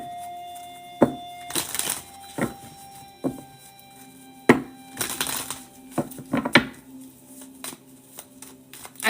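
Tarot cards are shuffled by hand in a series of close, crisp riffles and slaps with short pauses between bursts, heard alone without talk.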